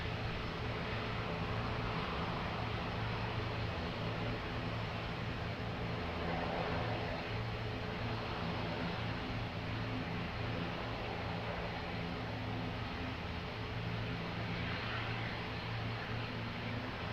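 A jet airliner's engines roar at Lisbon Airport, a broad, steady wash of engine noise at moderate loudness with no break, heard from a distance.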